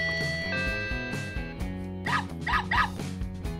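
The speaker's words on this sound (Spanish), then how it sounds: "Suena el timbre, ladra el perro y se enciende la luz." A toy Barbie dollhouse from Toys R Us plays an electronic doorbell chime followed by a recorded dog barking and yipping several times, bright and close with no voices.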